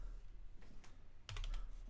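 Typing on a computer keyboard, a few soft scattered keystrokes followed by a quick burst of clicks, quiet and close with no talk.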